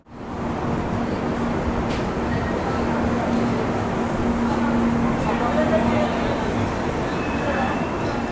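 A Garib Rath express train with new LHB coaches arrives at Ambala Cantt railway station in Haryana at night. Its dense, steady rumble fills the whole stretch loudly and close by, with a faint tonal hum running underneath.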